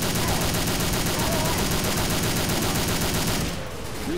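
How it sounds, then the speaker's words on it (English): Relentless automatic gunfire from survivors shooting at a tank in Left 4 Dead 2, loud rapid overlapping shots pouring continuously before cutting off briefly near the end. "You, shoot the tank! Shoot the tank!"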